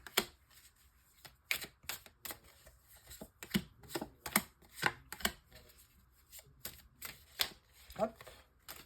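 Tarot cards drawn one by one and laid out in a pyramid spread: a steady run of crisp, close card slaps and flicks at an uneven rhythm, with soft shuffling in between.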